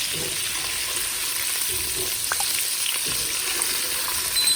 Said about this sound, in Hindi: जब आपने ड्रॉप करने हैं प्रॉन्स ऑयल में तो क्या करना है, ऑयल की टेम्परेचर है वो डाउन हो जाएगा